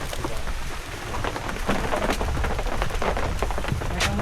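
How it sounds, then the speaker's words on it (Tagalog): Heavy rain with large drops pours down steadily, a dense continuous roar with individual drops spattering loudly on nearby surfaces, close and fairly loud throughout. "Uumpisa pa lang kami, ayan ah. Lalaki ng patak."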